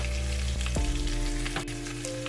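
Garlic frying to golden brown for pork adobo crackles and sizzles close up, with a brief clatter of utensil against pan amid the steady hiss.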